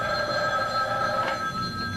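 A telephone rings in a room, a steady electronic bell tone held continuously and fairly loud for the whole stretch with no talking over it.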